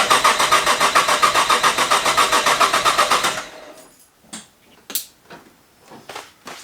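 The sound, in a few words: car engine cranked over with fuel pump and ignition disconnected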